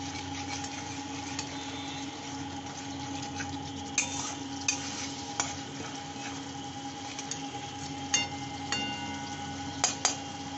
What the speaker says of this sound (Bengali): একটু জল দিয়ে সামান্য একটু জল দিয়ে কষতে হবে